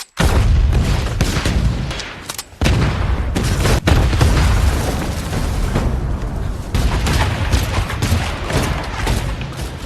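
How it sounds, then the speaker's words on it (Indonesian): A continuous barrage of heavy land mine explosions and booming blasts around a cabin, loud and close, rumbling on without pause. "ranjau yang ditanamnya di sekeliling pondoknya meledak"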